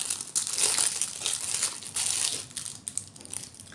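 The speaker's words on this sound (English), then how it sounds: "Sorry about the crinkling. Try and undo it." Plastic packaging crinkles and crushes loudly in bursts while a small UV torch is unwrapped close by, with the crackling continuing for several seconds and easing off toward the end.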